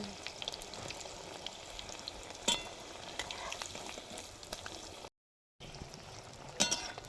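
Paneer chops fry in hot oil with a soft, steady sizzle and scattered crackles, faint and close, with a couple of brief louder spatters and one short silent gap.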